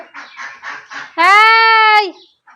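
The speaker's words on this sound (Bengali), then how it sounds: "এই জন্য হাঁস মুরগির ডাক শুনতে পাবে" A single long, steady, harmonic fowl call, likely a chicken or duck at a rural Bengali home in the afternoon, rings out loud and close for about a second after a stretch of talking.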